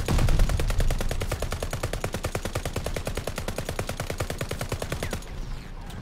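Call of Duty video game gunfire plays as a long, rapid automatic burst of evenly spaced shots. It is loud and sustained for about five seconds and then thins out at the end.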